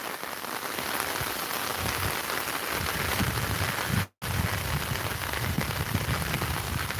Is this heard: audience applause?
no